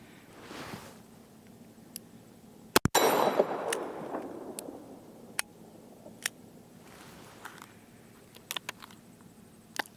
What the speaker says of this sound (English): Light primer strike on that one.